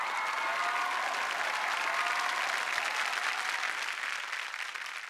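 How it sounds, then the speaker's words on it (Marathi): A studio audience at a comedy show claps in sustained, enthusiastic applause that stays loud for several seconds before tapering slightly at the end. "जोरदार टाळ्या."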